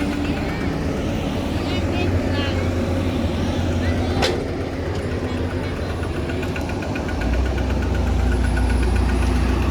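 A tractor's diesel engine chugs steadily nearby with a rough, vibrating drone, growing heavier toward the end; a sharp click cuts through midway.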